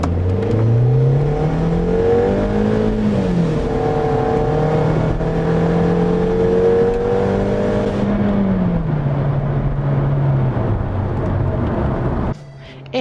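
A 2004 VW Passat 1.8T wagon's turbocharged 1.8-liter four-cylinder engine accelerates hard, its loud, steady drone rising through the gears with pitch climbs and drops at each shift, then cutting off abruptly near the end.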